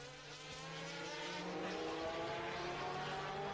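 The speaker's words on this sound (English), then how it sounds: "Number three Jaguar, savagely attacking number 18 Porsche." Jaguar and Porsche race cars at Le Mans in 1988 roar past in a steady, sustained engine drone with shifting whines, loud and continuous throughout with no voices.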